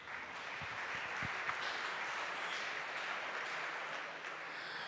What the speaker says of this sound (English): maybe a short applause for the Republica app